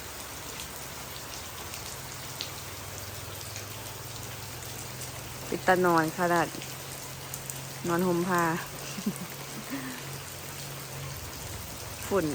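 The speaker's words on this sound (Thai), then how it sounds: "บรรยากาศมื้อนี้ก็คือฝนตกเนาะตกตั้งแต่เมื่อคืนนี่" Steady rain pours down outdoors in a rural Thai setting, a constant close hiss that runs through the whole stretch, with a person speaking briefly over it twice.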